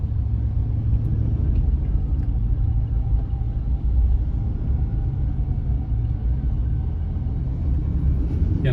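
Road traffic beside the Skyway near a fire, heard as a steady, loud low-pitched rumble of passing vehicles that continues unbroken throughout with no voices.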